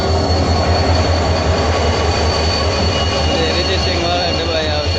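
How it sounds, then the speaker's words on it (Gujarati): A train rumbling past on a railway near Ahmedabad, a loud steady low roar with a continuous high metallic whine, close by and sustained for the whole stretch. "આવી જશે ભાવનગરથી ટ્રેન."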